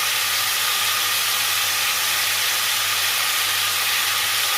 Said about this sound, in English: So we're gonna sear this until it's golden brown, until they get a nice, beautiful golden brown color.